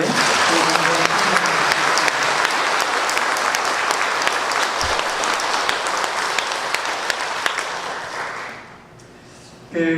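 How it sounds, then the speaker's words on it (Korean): A church congregation gathered for a joint Mass applauds steadily for about nine seconds, a dense wash of clapping that fades near the end. "감사하는 마음에 우리 모두 박수랑 함께"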